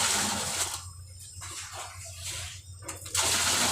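Bath water is scooped and poured in short splashing bursts, close and fairly loud, several pours in quick succession with brief gaps between them.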